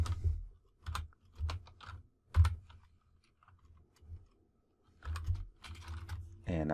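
Bursts of keystrokes on a computer keyboard, someone typing HTML code in short uneven clusters separated by pauses, close and fairly quiet, with no talking.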